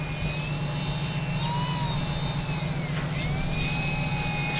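A ParkZone Sport Cub S2 RC airplane coming in to land: a thin, high electric motor whine that rises and dips in pitch as it passes, steady and moderately distant over a low background hum, with no voices.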